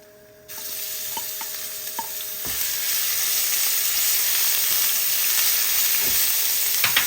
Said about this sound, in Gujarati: જીરું બરાબર આવી ગયું છે એટલે હવે આપણે એની અંદર નાખીશું આદુ મરચાં લસણની પેસ્ટ